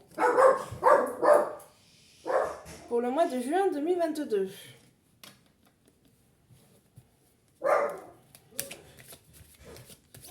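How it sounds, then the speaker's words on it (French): A nearby dog gives short barks and a wavering, whining cry between bursts of someone speaking. "Vous entendez ma chienne?"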